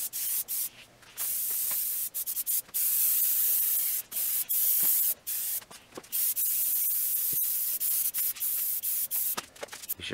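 An aerosol spray can paints a model figure of Super Buu in quick, closely repeated hissing bursts separated by short pauses, fairly loud and close up, with no one speaking.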